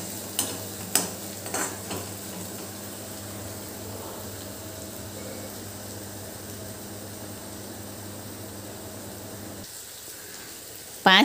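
Grated ginger and spices for aloo bhaji sauté in a pan, a steady soft sizzle with a few clinks of a spoon stirring early on, continuing quietly throughout.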